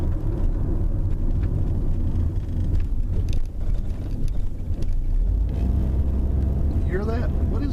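A 2000 Ford Focus wagon on the move, its steady road and engine rumble carrying a faint rising whine near the end, with voices occasionally over the cabin drone.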